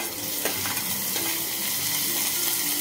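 Onion and tomato sizzle steadily as they are sautéed in a pan, a continuous close frying hiss broken by a few soft stirring scrapes.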